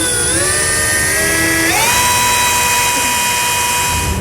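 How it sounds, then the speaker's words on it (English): A drill bores pilot holes into the frame rails of a 2011 Ford Crown Victoria during a Curt trailer hitch install, a loud steady whine that climbs in pitch twice and then holds, running alone and close. "we're going to drill those out to our bolt sizes"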